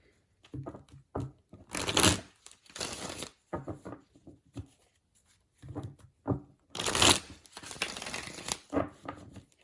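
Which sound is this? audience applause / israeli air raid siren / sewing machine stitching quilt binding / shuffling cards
shuffling cards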